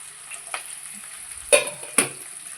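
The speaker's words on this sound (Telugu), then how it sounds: "ఉల్లిపాయలు బాగా వేగంత మట్టుకు అలా కలుపుతూనే ఉండాలండి" Chopped onions sizzle in hot oil with fried tempering seeds while being stirred, a soft continuous fry broken by two sharp spoon scrapes against the pan near the middle.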